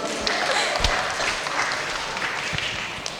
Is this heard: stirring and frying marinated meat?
no